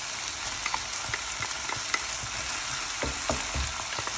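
Fresh tomatoes sizzle and fry in a hot pan for stuffed karela, a steady crackling hiss broken by occasional stirring clicks and scrapes, close and alone without talk.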